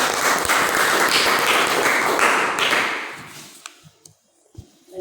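Classroom applause for a student at an Indonesian university guidance-counselling teaching practice, brisk and fairly loud for about three seconds, then tapering off into a few scattered claps and thumps.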